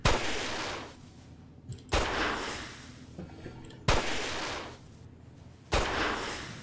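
Flare gun firing in Fallout New Vegas, four sharp booming shots spaced about two seconds apart, each with a loud attack and a long hissing, rumbling tail, alone without talk.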